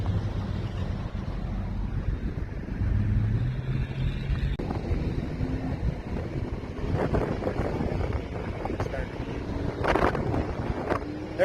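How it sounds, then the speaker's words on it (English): A Suzuki X-90 drives along the sand at Long Beach, its steady low engine drone running continuously beneath heavy wind buffeting against the microphone, with a few brief faint sounds near the end. "now we are going to drive down along the beach for a little bit"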